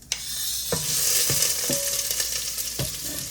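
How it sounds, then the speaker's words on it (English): Vegetables sizzle loudly in a hot pan, a dense close frying hiss with a few sharp knocks and pops from stirring. "I'm going to just go ahead and get these veggies going in this pan that's going to pop all over the place"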